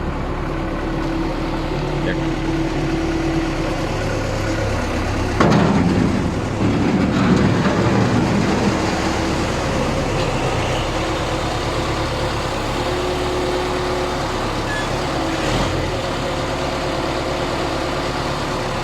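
A mini Manitou loader runs at a grain-drying yard, its engine a loud, close, steady rumbling drone with one brief swell of heavier noise partway through.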